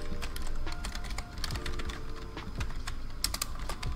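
Someone types code for a Unity game on a computer keyboard. The keys make a quick, uneven clatter of close, soft clicks that run on steadily for a few seconds.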